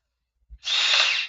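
A power drill run in reverse in a garage, a soft click and then a steady high whine of the motor spinning up and holding, close and alone.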